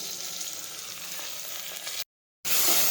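Chopped tomatoes and cluster beans sizzle steadily in hot oil while a Gujarati-style guvar curry cooks, broken by a brief silent gap before the frying returns louder.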